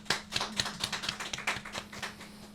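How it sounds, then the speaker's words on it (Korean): A small audience at a cultural centre training event in Incheon claps in sparse, fairly even beats, each clap sharp and distinct over a low steady hum. "큰 박수 부탁드립니다."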